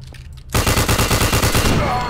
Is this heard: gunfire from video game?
yes